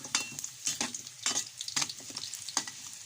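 Vegetables for chicken mechado sizzle in a hot pan, with repeated bursts of stirring and scraping, close and moderately loud, with no talking.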